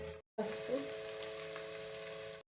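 Onions, green chilli and ginger fry in a pan for chicken curry, a bright, steady sizzle heard up close that starts after a short pause and hisses on evenly until it cuts off.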